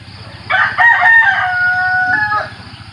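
A hybrid-crossbreed fighting rooster lets out a single loud, close crow lasting about two seconds, rising sharply then holding a long drawn-out note before cutting off, over a low rumbling background.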